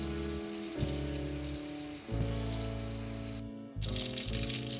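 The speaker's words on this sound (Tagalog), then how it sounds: "Ayan guys, yung bangus. Iparito na natin siya guys." Milkfish (bangus) steaks fry in hot oil with a steady, dense sizzling hiss under sustained tonal background music, broken by a brief dropout near the end.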